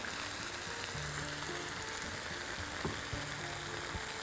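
Garlic and parsley sauté in a pan while being stirred, making a close, steady hiss and crackle throughout over a faint tonal hum, with no voices.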